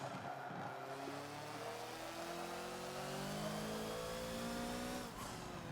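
Hoonigan Ford Focus race car in a Forza racing game on Mugello's club track revs high, drops pitch on an upshift into second gear and climbs again, a loud, continuous engine whine alone with faint tire noise.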